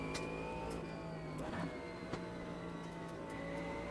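A supercharged race car in a sim racing game drones at high revs, its engine tone holding and shifting in pitch through a corner, with a few faint clicks over the continuous whine.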